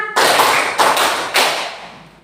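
A class of young students claps in unison, three sharp group claps, spaced evenly with reverberant decay in the classroom, part of a teacher-led counting clap routine.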